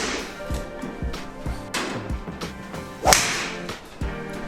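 A titanium fairway wood strikes a golf ball, one sharp metallic crack standing out above several lighter swishes and taps in the background, brief and fairly loud.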